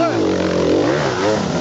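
Enduro motorcycles, a Sherco and a KTM, race past in an endurance event, their engines rising and falling in pitch close by, loud and continuous, with a voice talking over them.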